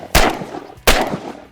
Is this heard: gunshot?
yes